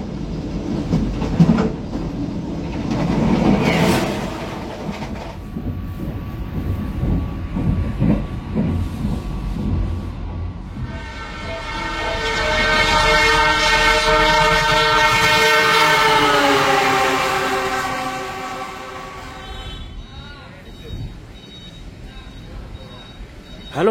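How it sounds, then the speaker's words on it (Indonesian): Matarmaja economy passenger train on the Jakarta to Malang route, with steady rumbling and clattering wheels, a long loud horn blast in the middle, and rolling rail noise throughout. "video perjalanan naik kereta api"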